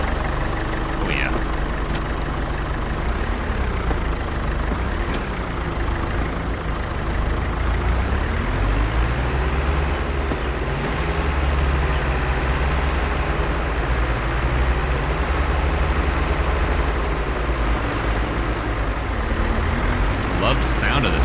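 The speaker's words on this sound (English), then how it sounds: "Love the sound of this tractor." A John Deere tractor engine in the video game Farming Simulator 22 runs steadily and loudly at a medium rumble, its pitch rising and falling gently as it revs and drives, with no talk over it.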